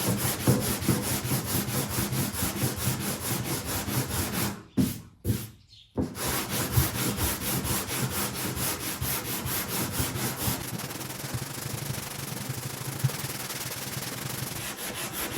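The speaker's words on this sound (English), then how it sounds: "I'm going to hit it with the 80 grit sandpaper. And I'm still going to be going in that X pattern." Sanding block with 80 grit sandpaper scrubbing dried body filler on the roof of a 1972 El Camino, a steady close rasping in back-and-forth strokes with a brief pause near the middle.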